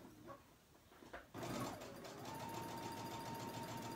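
A sewing machine stitches a hem, first with a few faint bumps and handling noises, then the motor kicks in abruptly and runs in a steady, close whirring rattle to the end.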